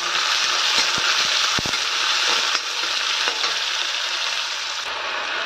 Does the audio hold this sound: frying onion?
yes